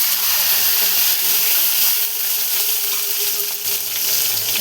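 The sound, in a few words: cumin sizzling in hot oil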